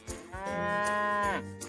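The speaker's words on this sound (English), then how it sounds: "Jack had to go find Mumu the cow and bring her home" A cow gives one long, loud moo that holds steady and then falls away, heard up close and alone with no talking.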